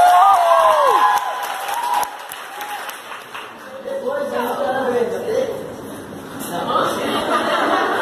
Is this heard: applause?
yes